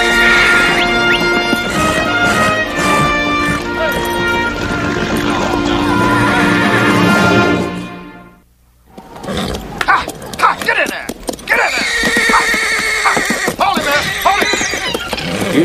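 A horse whinnies and snorts amid busy hoofbeats and music, with a brief near-silent gap before the loud, clattering activity resumes.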